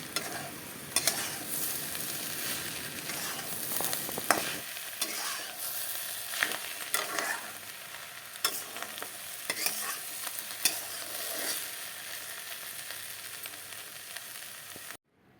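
Potatoes sizzle and crackle in hot oil while a utensil repeatedly scrapes and stirs the pan, loud bursts over a constant frying hiss.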